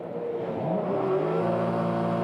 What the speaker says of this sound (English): Revs it up.